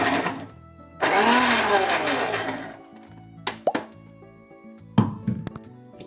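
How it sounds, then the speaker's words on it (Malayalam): A mixer grinder crushes halwa ingredients in short bursts: a loud whirring run of about two seconds, then quieter pauses broken by brief motor pulses and clunks, close and without speech. "ഇതേ നമുക്കേ വെറുതെ ഒന്ന് മിക്സിയിലൊന്ന് ക്രഷ് ചെയ്യാൻ പറ്റുക"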